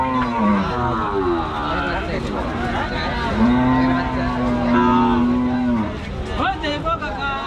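Bulls at a busy livestock market in Rajshahi low out with sustained, fairly loud moos over a constant crowd chatter, with voices talking nearby throughout.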